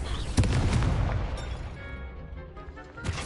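A Confringo spell explosion in the video game Hogwarts Legacy: a sharp booming blast followed by a crackling, fading rumble, with a second burst near the end.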